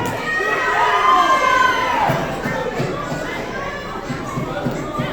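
Crowd at a wrestling event cheers and shouts, a broad steady roar at close range with some whistles and higher voices rising through it.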